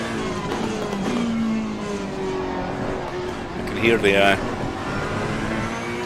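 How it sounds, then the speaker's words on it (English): Engine drone of a racing car in a sim racing game at Imola, with brief high-pitched tyre squeals near the middle as it corners, while a person talks over the game sounds. "I can hear the tyres squealing more as I go around corners."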